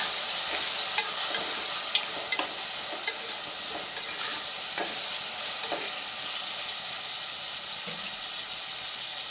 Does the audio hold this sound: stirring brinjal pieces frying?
yes